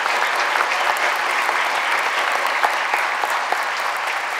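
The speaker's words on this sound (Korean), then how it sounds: "박수 올려드립니다." A church congregation claps together in sustained, even applause, dense and fairly loud, with no voices standing out above the clapping.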